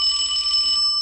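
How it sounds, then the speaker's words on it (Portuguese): A school recess bell rings loud and steady for about a second, its bright electronic tone sustained alone with no voices. "tocou o sino do recreio"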